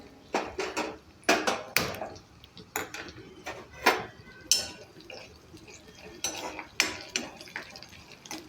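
Green chillies sautéed in a pan for yellow bhadang: a series of irregular scraping and clattering spoon strokes against the pan, fairly close, with faint sizzling in the pauses and no talk.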